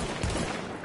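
Gunfire in The Division, a brief, dense burst of rapid shots heard at moderate level as a rough crackling volley lasting under a second, with no speech.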